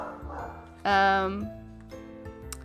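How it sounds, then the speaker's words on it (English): A single sharp bark rings out close by over a quiet background, with faint, softer dog noises before and after it. "oh, dogs are barking"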